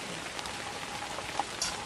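Rain falling steadily around a campfire, a soft, even patter with a few sharper drips standing out, heard alone without voices.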